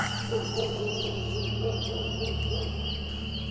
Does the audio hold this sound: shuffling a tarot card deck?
no